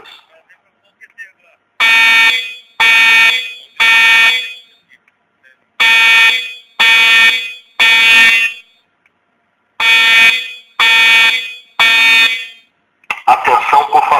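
A school building's fire alarm sounds during an evacuation drill, loud electronic blasts in groups of three separated by pauses, with a broadcast voice briefly heard at the end.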